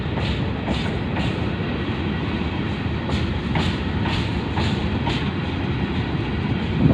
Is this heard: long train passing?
yes